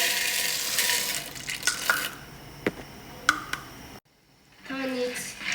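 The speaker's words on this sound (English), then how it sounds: "Next, pour in your popping corn." Popping corn kernels poured into a pot of oil for caramel popcorn, a close run of light rattling and clinking against the pot, followed by a short silence, with a voice talking over it.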